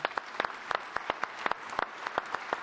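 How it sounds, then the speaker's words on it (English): An audience at the FAO Assembly in Rome applauds the Pope, with distinct individual claps forming a brisk, fairly sparse ovation heard from close by. "Let us give His Holiness a round of applause."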